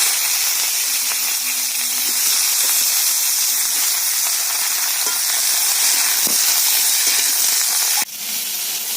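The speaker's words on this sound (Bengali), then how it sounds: "বেগুনগুলোকে ভেজে নেব" Eggplant pieces fry in hot oil with a steady, close sizzle and hiss, with a few faint clicks along the way and a brief knock near the end.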